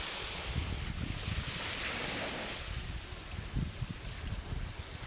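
Ocean waves roll and wash onto a beach in steady surges, with gusts of wind noise buffeting the microphone, heard alone without talk.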